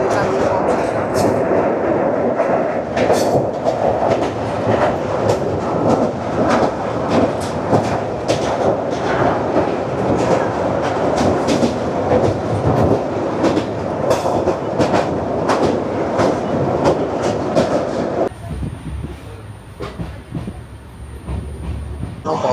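A passenger train runs steadily along rails through green monsoon countryside near the Ghataprabha river, with loud continuous rumble and rhythmic clatter throughout, easing to a quieter roll near the end.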